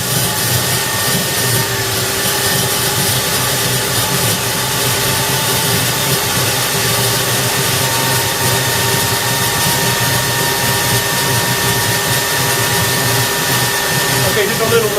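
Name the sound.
home built turbo jet engine warming up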